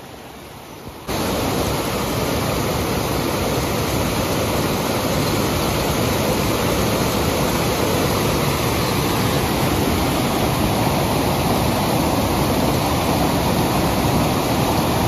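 Spring water pours steadily at Vattavada, a dense, continuous rushing wash that starts abruptly and holds loud and close throughout, with no voices.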